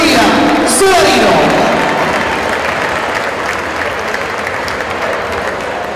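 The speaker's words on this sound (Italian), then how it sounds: "Allora fate un grande applauso a Igor Kozak e Mattia Solarino." A boxing event crowd applauds the fighters after the bout, with loud, dense clapping that slowly fades, mixed with crowd noise and some voices.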